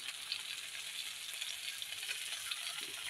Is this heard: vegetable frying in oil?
yes